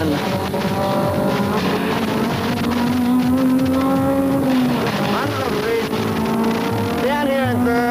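Onboard a Mitsubishi Mirage race car at Oran Park in 1999, the engine howls at high revs, holding a steady pitch down the straight before dropping and climbing again as the driver shifts and brakes, with road noise underneath.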